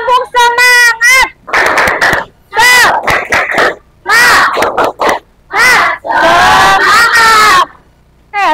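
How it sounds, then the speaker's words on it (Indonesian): A class of schoolchildren performs a rhythmic spirit clap-and-chant in loud bursts, shouted voices and claps alternating with short pauses, close and energetic in a classroom. "Ulangi lagi. Tepuk semangat."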